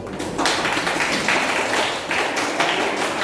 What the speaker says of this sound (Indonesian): Dan tepuk tangan untuk kelompok 7.